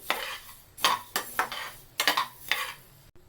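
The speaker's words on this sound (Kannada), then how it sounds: "ಈಗ ಅರ್ಧ ಕಡಲೆಬೇಳೆ ಹುರ್ಕೋತಾ ಇದ್ದೀನಿ" Chana dal being dry-roasted in a heavy-bottomed pan, a run of sharp scraping and clinking strokes from a spatula or spoon stirring the lentils against the metal, close and distinct, with no voices.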